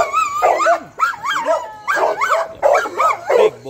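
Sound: XL bully dog barking and whimpering

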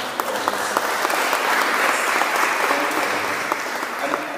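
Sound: audience applause in church

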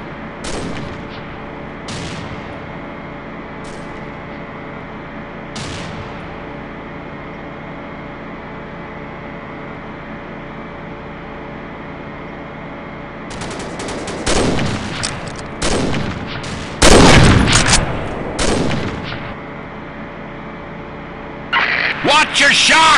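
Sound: sniper gunshots in the video game Combat Arms

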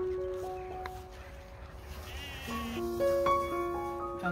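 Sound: Leicester Longwool sheep bleating

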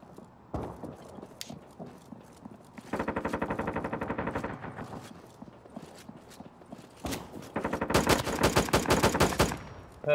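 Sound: gunshots in Due Process video game

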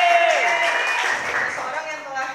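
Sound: audience applause at training session

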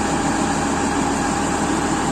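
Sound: Oxbo 2485 harvester diesel engine idling

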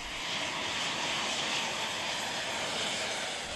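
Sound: Zapata flyboard with kerosene-fuelled turbo engines

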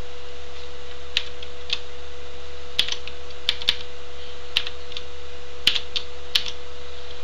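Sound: typing on a computer keyboard while writing HTML

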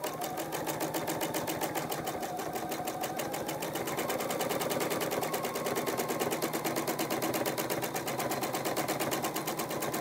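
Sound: sewing machine stitching during machine quilting

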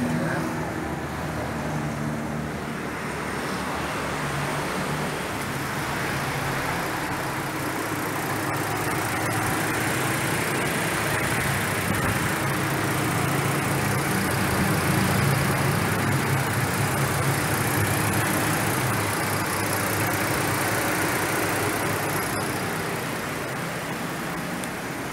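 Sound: Mazda CX9 3.7L engine idling after start

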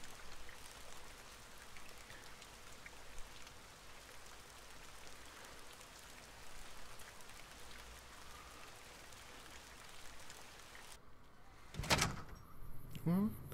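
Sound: rain falling in Fallout: New Vegas video game

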